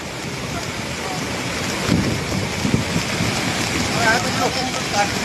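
Floodwater of the Ravi river surging over the walls of the Madhopur main headworks, a steady broad roar of rushing water with wind buffeting the microphone throughout and faint voices now and then.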